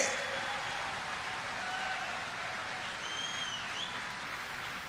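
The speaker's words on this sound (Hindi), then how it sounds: "एक बार दोनों हाथ ऊपर उठा के तालियां बजा के स्वागत कीजिए" A large stadium crowd at a public welcome event in Bhopal claps in a steady, distant wash of applause, a faint voice briefly rising through it.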